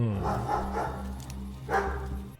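Muffled dog barks from the video game Pathologic Classic HD repeat in a loose rhythm over a low droning hum, sounding dull and distant.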